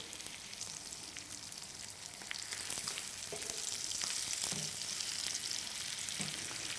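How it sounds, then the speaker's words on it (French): Foie gras escalopes searing in a hot pan, a steady close sizzle and crackle with scattered sharp pops, growing slightly louder partway through, with no talking. "On va les laisser dorer une minute de chaque côté."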